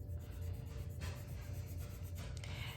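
Graphite pencil shading a value scale drawing on paper, a soft, steady scratchy rubbing that continues quietly and evenly throughout, with slight variations in stroke pressure.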